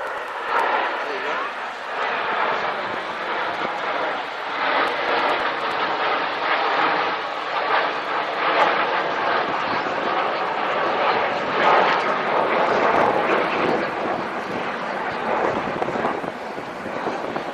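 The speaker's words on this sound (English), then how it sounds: "Now the Strike Master is the smaller of the two aircraft" A BAC Strike Master jet flying at the RAF Waddington air show in 2010, with a loud, sustained engine roar that swells and fades slightly as it passes.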